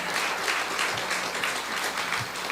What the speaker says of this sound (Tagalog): Pumalakpak nga ang mga magaganda.